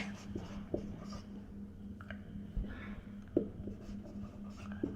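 Pen or marker writing out a carry bit while working an 8-bit binary addition problem, a steady scratchy stroking with a few sharp taps, close and fairly quiet with no talking.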